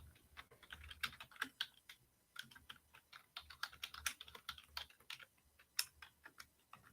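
Steady, fairly quiet keystrokes on a computer keyboard, tapped in an uneven rhythm of clustered and single presses throughout, with no talk.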